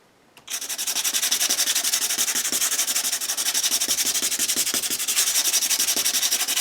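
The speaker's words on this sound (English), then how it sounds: "And the texture paste responds nicely to the sanding." Sandpaper rubs texture paste on stenciled letters of a craft tag in quick, even back-and-forth strokes. The rasping starts abruptly after a brief quiet moment and carries on, close and loud, with no voices.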